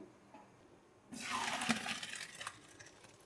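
Boiled rice poured into a strainer, with a sudden splashing rush of draining water that starts after a second of quiet and trails off into a steady trickle.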